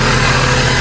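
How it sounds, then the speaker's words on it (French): The engine of a Mercedes SLK runs steadily with an even mechanical drone, close and fairly loud. "le moteur tourne hyper bien."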